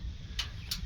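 A Liftmaster LA400DC gate opener's latch gives two crisp clicks close by, sharp and brief against a low hum.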